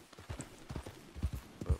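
Horse hooves clip-clop in a Red Dead Redemption 2 video game, a faint, steady trotting rhythm of soft thuds against a low ambient background, with no voices.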